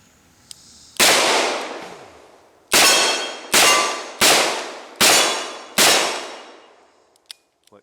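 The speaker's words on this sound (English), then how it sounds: "take a couple shots with him" Six loud revolver-style handgun shots ring out one after another outdoors, each a sharp crack with a ringing decay, spaced roughly a second apart after a short pause, followed by faint clicks.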